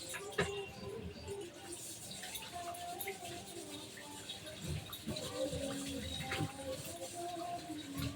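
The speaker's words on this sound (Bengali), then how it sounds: "কড়াটা একটু ধুয়ে নিই।" Running water splashes steadily over a metal wok (kadai) being rinsed at a kitchen sink, with continuous trickling and clatter.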